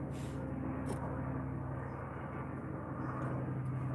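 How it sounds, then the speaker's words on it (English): A helicopter passes overhead above a courtyard garden on Salt Spring Island, Canada, giving a continuous low, droning engine rumble that stays steady throughout. "Helicopter going over."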